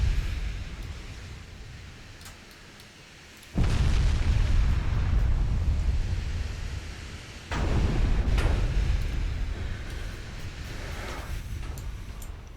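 Naval guns fire and shells strike in a British campaign naval strategy game, two heavy booming blasts each followed by a long rumbling roar, loud and without talk.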